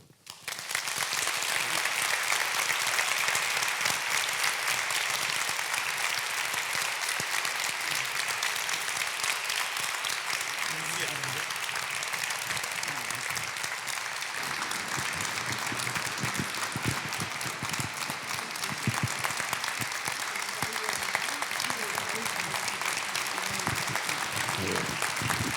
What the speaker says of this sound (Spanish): Esto es un aplauso